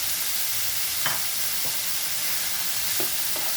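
Fried potatoes being added to ridge gourd and poppy seed paste in a pan over a high flame, a steady sizzle with a few sharp scrapes of the spatula while stirring, close and alone.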